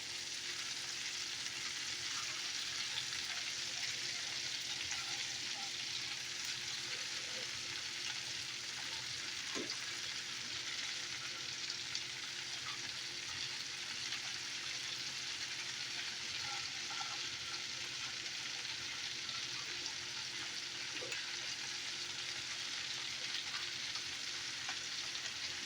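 Cabbage and sausage sizzle steadily in a pot, a continuous close frying hiss with occasional small pops and stirring clicks, no talk.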